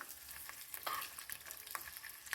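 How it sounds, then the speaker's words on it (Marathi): Peanuts, a piece of ginger and green chillies frying in oil in a pan, a soft steady sizzle with light scraping stirs and small crackles, quiet and close, with no voices. "थोडीशी शेंगदाणे एक आल्याचा तुकडा आणि एक दोन हिरव्या मिरच्या छान तेलामध्ये फ्राय करून घेत घेणार आहे"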